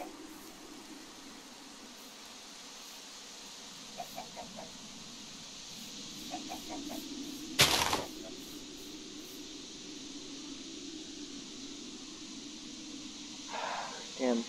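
Soft clucking from chickens in the video game Minecraft comes in short bursts over a quiet background hum, with a sharp burst of noise midway and more clucks near the end.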